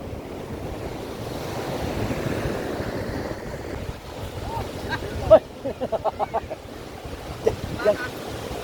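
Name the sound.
big ocean waves crashing on the shore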